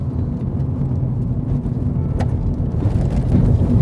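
A car driven fast over a badly bumped road, giving a steady loud low rumble of engine, tyres and wind with irregular jolts throughout.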